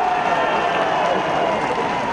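A large crowd at a political rally in Jeypore claps steadily and densely, a continuous roar of applause with no breaks across the whole stretch.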